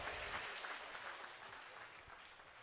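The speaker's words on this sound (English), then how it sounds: "a massive cheer and a huge clap to all the volunteers who are here this weekend" Crowd at a county swimming championship gala clapping and cheering for volunteers, a dense sustained burst of applause in an echoing indoor pool hall that gradually fades.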